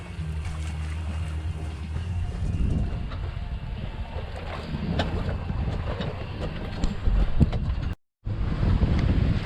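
Strong wind buffets the microphone aboard a sailboat, a steady roaring rush with water and hull noise underneath and one brief dropout near the end.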